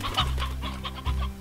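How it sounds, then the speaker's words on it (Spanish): Chickens in the video game Slime Rancher cluck in quick, close repeated bursts over a steady droning game background, with no talking. "Aquí pollos."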